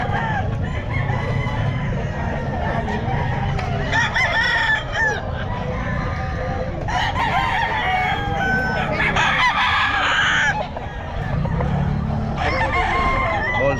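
Stag roosters at the Bocaue pet market crowing again and again over a busy, noisy crowd, with overlapping crows, clucks and nearby voices throughout.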